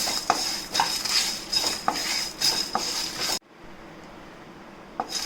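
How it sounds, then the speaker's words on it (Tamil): Light scraping and clinking of a spatula against a metal pan as dry spices are roasted for Chettinad chicken gravy, with soft rustling; the stirring stops abruptly partway through. "இதை நல்லா வாசனை வர அளவுக்கு ஒரு 3 நிமிஷம் நல்லா வறுத்துக்கோங்க"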